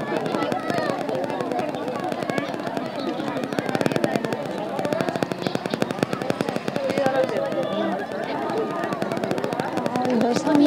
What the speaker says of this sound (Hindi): बच्चे पटाखा फोड़ रहे हैं